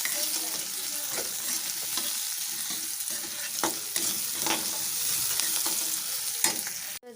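Cooked rice stir-fries in a pan with egg and Maggi masala. Dense sizzling runs throughout, with the scrape and clack of a spatula stirring at close range and a brief clatter near the end.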